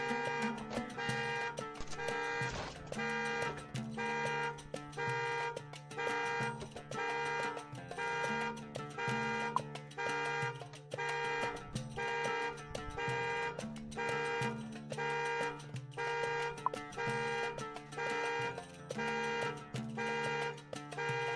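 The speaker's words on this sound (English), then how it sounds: "the car horn starts honking and the man drives away" A car horn honking in a repeated pulsing pattern during an attempted break-in, loud and sustained for about twenty seconds.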